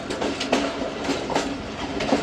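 Thal Express passenger train running on the rails on a single line in Pakistan, a steady rumble of carriages with periodic clickety-clack wheel beats at the rail joints, close and continuous with no talk.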